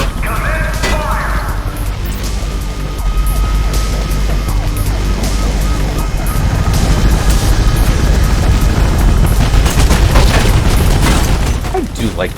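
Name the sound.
police gunfire in video game Mirror's Edge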